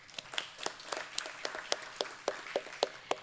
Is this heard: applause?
yes